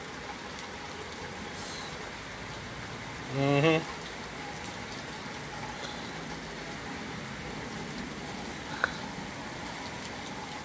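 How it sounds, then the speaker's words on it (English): Steady rain falls on a rainy, stormy day, a constant hiss throughout with a brief murmur of voice partway through and a small sharp tap near the end. "still a rainy day. A rainy, stormy day."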